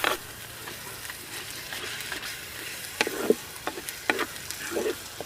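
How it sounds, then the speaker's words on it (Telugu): Spinach paste is stirred in a hot frying pan, giving a soft sizzle with scattered scraping and tapping strokes, fairly quiet and without talk. "ఇది ఒక్క నిమిషం పాటు బాగా కలుపుకుంటూనే ఉండాలండి."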